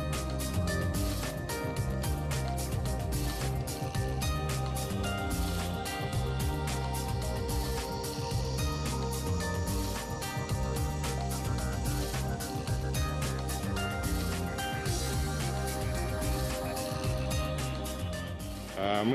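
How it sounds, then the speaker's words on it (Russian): Roaring cascade of waterfalls on the Yazevaya river a few kilometres below Lake Yazevoye, a steady dense rush of falling water heard from about 100 metres away, continuous and loud throughout. "Это шумит каскад водопадов на реке Язевая в нескольких километрах ниже озера Язевое."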